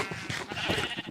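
A sheep bleating on a Minecraft farm, one short wavering bleat, close and moderately loud.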